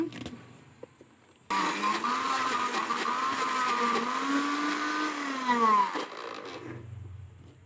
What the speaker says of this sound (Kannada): ನೀರೇನು ಸೇರಿಸ್ದಂಗೆ ಹಂಗೆ ನುಣ್ಣಗೆ ರುಬ್ಕೊಳ್ಳೋಣ ಇದನ್ನ